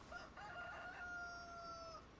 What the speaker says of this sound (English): We got 355 chickens, I think. Or 350 chickens and 5 roosters.